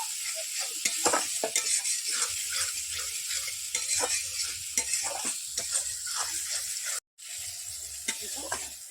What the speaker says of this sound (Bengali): এবার দিয়ে দিলাম কাজু বাদাম বাটা, ভালো করে এটাকে নাড়াচাড়া করতে হবে।